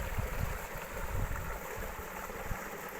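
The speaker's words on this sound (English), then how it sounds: "all the little streams that head down to the rivers are beginning to fill up" Small woodland streams in a Cornish valley, swollen with rainwater, give a steady, soft rushing wash with a low rumble underneath, fairly faint and continuous, with no voices.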